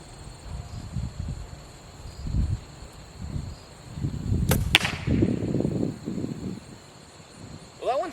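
A broadhead arrow tipped with a VIP Combat Veteran mechanical head strikes a target at close range: a sharp impact crack with a brief rattle and thump, amid outdoor ambience and insect chirps.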